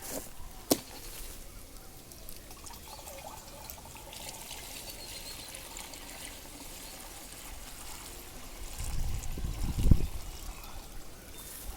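Liquid GEMs solution is poured into a sprayer tank, a faint, low splashing pour swelling near the end over quiet background hiss.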